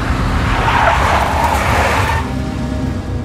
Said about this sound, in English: A big black Mercedes.